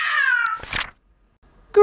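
A cat meows twice: a long, drawn-out, falling meow at the start, then a short, bright meow right at the end, close and clear, with a soft thump between them.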